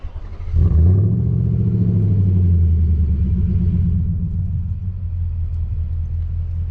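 A Nissan Titan pickup revs through an AFE 3.5-inch catback exhaust: a deep, loud rumble swells and holds, then eases to a lower idle-like drone, heard alone and up close.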